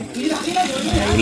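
Water runs steadily from a newly fitted tap at a house in a Konkan village hamlet, a close, rushing flow with people talking over it.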